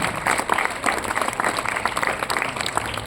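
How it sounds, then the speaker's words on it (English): A room full of quiz participants gives a big round of applause, with dense, even clapping and a murmur of crowd noise running steadily throughout. "Give a big round of applause."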